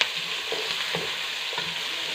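Onions sautéed in a pan, a soft steady sizzle with a few spoon scrapes as they are stirred, close and alone.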